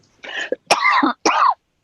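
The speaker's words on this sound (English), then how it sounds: "excuse me for my coughing" Three harsh coughs in a row, close and loud, each a short rasping burst with brief pauses between them.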